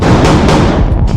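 Gunfire in close quarters combat in Ukraine cracks out in loud, rapid bursts, several sharp reports in quick succession with a booming, reverberant tail, very near and harsh.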